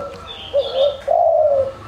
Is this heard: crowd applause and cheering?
no